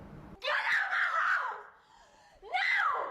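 Dubbed, high-pitched screaming from a played video: a long, loud scream lasting over a second, a brief dip, then a second sharp burst of screaming near the end, with no talk over it.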